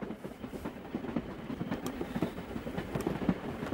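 A train runs along, a low, muffled rumble with faint rhythmic clatter heard from inside a carriage, steady and moderately quiet throughout.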